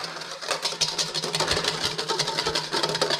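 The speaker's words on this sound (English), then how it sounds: "whisk these up" Crème brûlée mixture is beaten with a wire whisk in a bowl, a fast, even rhythm of close clattering strokes that continues steadily throughout.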